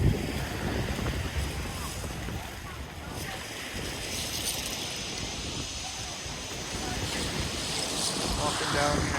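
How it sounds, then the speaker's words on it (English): Waves roll in against a jetty on the Gulf of Mexico at Venice, Florida, with a steady washing roar heavily mixed with wind buffeting the microphone. A voice can be heard faintly. "Them waves are rolling in pretty good."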